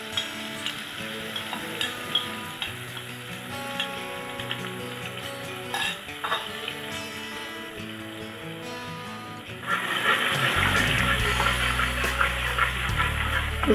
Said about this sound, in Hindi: अब हम तेल में लहसुन अदरक का पेस्ट डाल दें